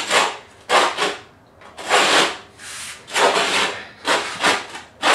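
A utility knife scoring cement backer board for a bathtub surround, with several loud, close, gritty scraping strokes separated by short pauses.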